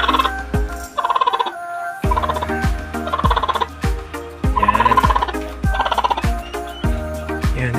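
A turkey hen gobbles repeatedly as eggs are placed under her, a run of loud, close, rattling calls repeating roughly every second, with no talk.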